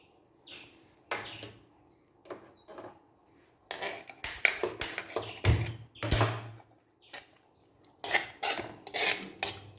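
A spoon scrapes chopped bitter gourd out of a vessel into a pot of cooked tomato and dal for curry, making irregular metallic clinks and scrapes in bursts, some sharp and close, with quiet gaps between.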